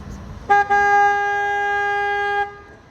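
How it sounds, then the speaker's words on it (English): A single long, loud tour boat horn blast with a brief stutter at the start, holding a steady tone for about two seconds against quiet background, in San Antonio. "at this stop, I have to honk my horn."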